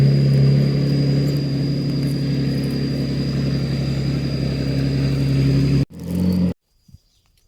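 A steady low farm tractor engine drone runs nearby for several seconds, then cuts off abruptly with a brief restart before silence.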